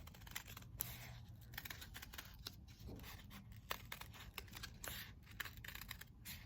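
Scissors or a blade cutting through a soft clay slab for a hand-built pour-over form, giving faint, close snipping and scraping strokes in an otherwise quiet room with no talk.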